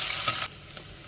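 Sliced onion and garlic tempering fry in oil in a clay pot, giving a bright, steady sizzle that drops sharply partway through, then a brief flare of stirring, close by with no talk.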